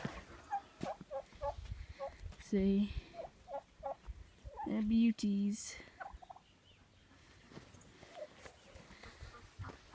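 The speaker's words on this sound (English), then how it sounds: "I'm going to show you guys my turkeys" Farm turkeys gobble in repeated bursts, some loud and close, mixed with scattered clucks and other fowl calls, while someone speaks briefly nearby.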